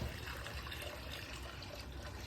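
Fresh water poured for barn animals, a steady, faint splashing and trickling wash that runs alone for a couple of seconds.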